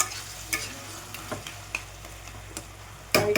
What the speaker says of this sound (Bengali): আর একটু ভাজা ভাজা হয়ে যাবে।